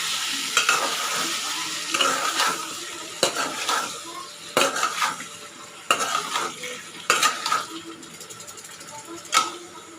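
Ash gourd and shrimp stir-fried with salt in a pan: steady sizzling under repeated scraping strokes of a spatula, with sharp clanks against the metal every second or so.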